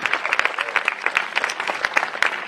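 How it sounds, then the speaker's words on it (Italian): An indoor audience at an open-air cinema event in a park applauds steadily, dense clapping from many hands filling the scene at close range. "Un applauso alle architette che sono in sala, Raffaella Moscaggiuri e Claudia Tombini."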